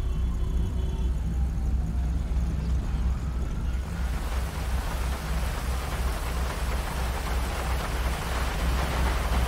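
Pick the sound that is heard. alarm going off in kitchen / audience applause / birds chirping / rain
rain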